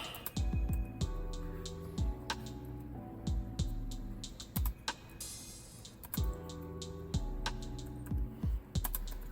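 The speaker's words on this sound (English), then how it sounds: "here's my little peck typing" Steady clicking of keys being typed on a Brydge G-Type keyboard for a Google Pixel Slate tablet, close and crisp, in uneven bursts with short pauses.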